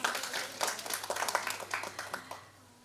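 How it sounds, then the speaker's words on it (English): Audience clapping at a literary festival session, a short, fairly faint burst of scattered hand claps that tapers off toward the end, with no voices over it. "A warm round of applause, sir as well."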